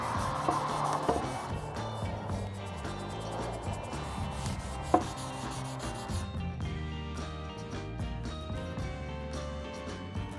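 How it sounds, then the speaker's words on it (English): Stain brushed onto wood for a portable market display, a close soft repetitive rubbing and scratching of bristles across the surface, steady throughout. "So all I'm doing right now is brushing it on."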